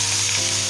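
Cabbage paratha fries in oil on a hot griddle, giving a steady, close, even sizzle with no voices over it.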